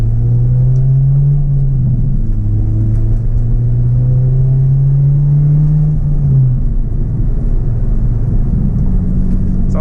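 An Acura RSX Type-S engine with a cold air intake hums steadily with low road rumble, pitch rising and dipping as it drives along around 55 mph, continuous and fairly loud without talk.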